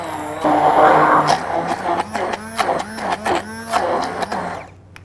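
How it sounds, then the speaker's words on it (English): An immersion blender whirs steadily through a parsley and olive oil sauce for a few seconds, the motor note wavering as it works, with a voice talking over it before it cuts off. "And then we'll just blend it up with this immersion blender."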